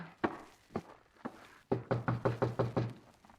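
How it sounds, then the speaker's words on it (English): Knuckles rap on a door at the top of a stairway, first three slow separate knocks, then a quicker run of about seven firm, close raps. "We better knock."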